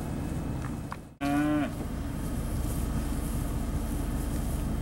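A single loud cow moo bellows up close after a brief pause, set against a steady outdoor rumble, at a cattle sale in Ozark, Alabama.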